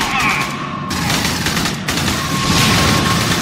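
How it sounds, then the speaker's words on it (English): Rapid bursts of gunfire and blasts from an RPG during a firefight in the video game Aliens: Colonial Marines, loud and dense throughout with brief lulls between volleys. "He's got an RPG or something."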